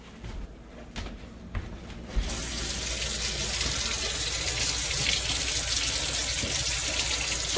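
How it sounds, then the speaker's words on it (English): Tap water running steadily into a sink while a rusty object coated in potato is rinsed, starting after a few knocks and clatters and continuing as a close, constant hissing rush. "I'm gonna rinse this off."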